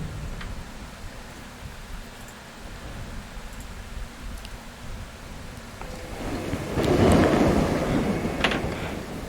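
Steady rain hisses throughout a stormy scene in the video game Sleeping Dogs, with a low rumble of thunder swelling louder near the end.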